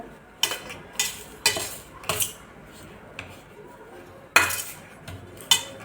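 Spoon clanking against a metal pan while roasted semolina is mixed into a besan ladoo mixture, sharp rhythmic scrapes and clinks repeating about once a second, close and otherwise quiet.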